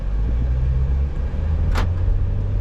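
A 2005 Toyota Vios 1.5 G automatic pulls away with a low, steady engine rumble and road hum, close and continuous, with a brief hiss partway through.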